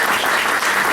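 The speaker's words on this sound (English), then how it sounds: "another round of applause for Sabrina" Steady, dense applause from an audience at a comic book release party, close and continuous with no talk over it for the whole brief moment.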